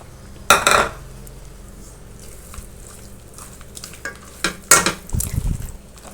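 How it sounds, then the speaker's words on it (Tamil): Rava kesari, a semolina sweet mixed with fried nuts, being stirred in a pan, with a few loud scraping clatters near the start and around the middle over a faint low background hiss. "இடையில கிண்டிகிட்டே இருங்க, இல்லைனா கருகிடும்"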